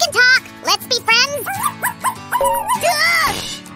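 A voice imitates a small dog's barks, yips and whimpers during play with miniature dolls, a close run of high, bending cries in quick succession.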